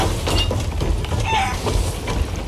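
Chickens aboard a ship in Sea of Thieves cluck in a few agitated bursts over a constant low rumble of wind and water.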